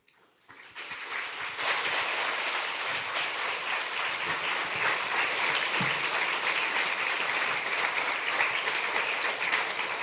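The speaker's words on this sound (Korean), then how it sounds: "오늘 강사 목사님 나오실 때 뜨거운 박수로 우리 맞이하겠습니다" A church congregation breaks into warm applause welcoming a guest speaker, rising quickly from near silence into loud, sustained, dense clapping that holds steady for several seconds.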